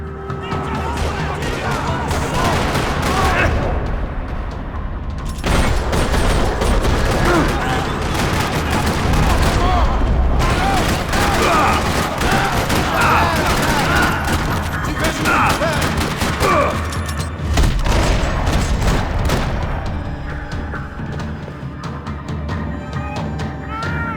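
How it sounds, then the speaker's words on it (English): Dense gunfire fills a parking lot in the video game Max Payne 3, with rapid overlapping shots and bursts that pause briefly, then resume, loud and sustained throughout. "Another parking lot rattling with gunfire."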